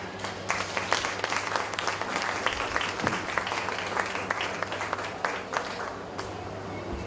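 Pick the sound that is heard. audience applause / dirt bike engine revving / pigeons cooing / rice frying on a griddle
audience applause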